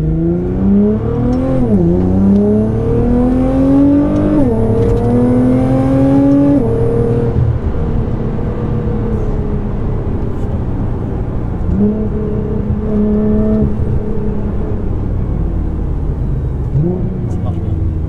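A powerful tuned Nissan GT-R Stage 3+ engine of about 700 horsepower revs hard, its pitch climbing through several loud surges and gear shifts, close and sustained.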